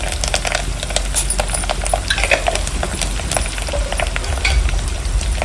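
Chana dal and urad dal fry in a pan with curry leaves, a busy crackling sizzle with frequent sharp pops and stirring clatter, loud and close, no speech.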